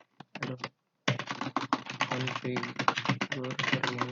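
Someone types networking commands on a computer keyboard in a Packet Tracer routing exercise. Quick clicking keystrokes run in close bursts under a person's continuous speech after a brief pause near the start.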